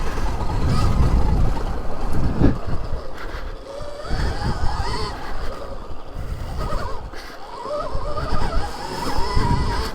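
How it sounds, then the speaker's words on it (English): A 35-horsepower Stark Varg electric dirt bike climbs a hill on a woods trail, its rear tire scrabbling and churning dirt under a wavering, rising motor whine, loud and close with rough wind buffeting throughout. "Gets up those hills, no problem. You just hear that rear tire clawing for traction."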